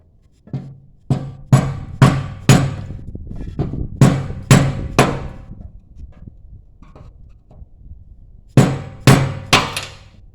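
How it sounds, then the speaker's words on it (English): A hammer strikes a metal fuel pump lock ring in sharp, ringing blows, delivered in quick bursts of three or four with pauses between, close and loud. "Guess we're gonna try to take this little old blow hammer."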